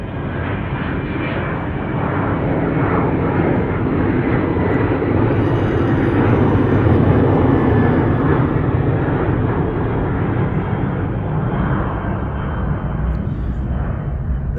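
Airplane flying overhead about five miles from an airport: a loud, steady engine roar that fills the whole stretch without fading, heard alone with no talking.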